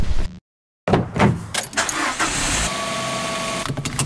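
Someone climbs into a car with a door thud and rustling, keys jangle, and the engine cranks and starts, settling into a steady running hum over a few seconds.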